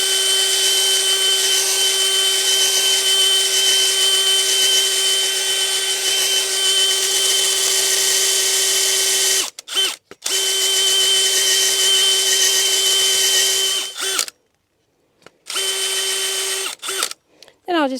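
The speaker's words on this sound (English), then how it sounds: "boy, I've used my power planter auger for so much, for quite a few years" A power planter auger drills a planting hole in garden soil for lily bulbs, whining steadily and loud nearby, then stopping and restarting in short bursts near the end.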